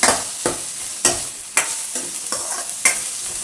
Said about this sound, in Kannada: ಇದು ಎಣ್ಣೆಲಿ ಚೆನ್ನಾಗಿ ಬೇಯಬೇಕು